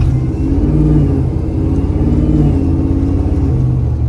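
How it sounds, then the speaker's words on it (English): Car doing a dead stop burnout, its engine holding a loud, steady, close revving roar with a deep rumble throughout. "one dead stop burnout"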